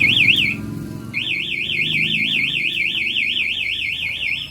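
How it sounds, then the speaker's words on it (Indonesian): Yamaha NMAX smart key motorcycle alarm wailing with a loud warbling siren tone, cutting out briefly after the first burst and then sounding again continuously. "alarm akan teriak, yang di motor ataupun yang di remote"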